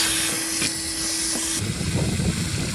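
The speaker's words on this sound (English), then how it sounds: "So I'm just going to get the hoover in there and just get this dry fluff out." A vacuum cleaner hose sucks dry fluff out of an Indesit IDC 75 condenser dryer, a loud steady whooshing roar with a brief whine early, shifting to rougher rattling suction as debris is pulled in.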